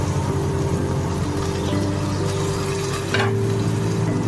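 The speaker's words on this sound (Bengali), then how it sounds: "ভেজে রাখা চিকেনগুলো দিয়ে এবার মশলার সাথে ভালো করে আমি কষে নেব" Fried chicken pieces are turned through spice masala over low to medium flame for chicken kosha, making a dense, continuous sizzle and low rumble, with one louder scrape of the spoon partway through and no talking.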